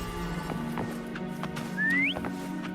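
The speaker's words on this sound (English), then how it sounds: "Try whistling." A single short rising whistle calls a horse in the video game Wuthering Waves, clear and close over a steady low ambient hum and faint soft knocks.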